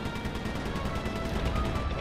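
Gunfire in the video game Sly 3: Honor Among Thieves, a dense, continuous run of loud rapid shots filling the whole moment with no talk over it.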